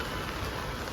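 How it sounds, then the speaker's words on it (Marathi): Heavy rain pours down as a dense, continuous hiss of drops striking surfaces, loud and steady throughout the short moment with no gaps. "किती जोराचा पाऊस आहे ना आज"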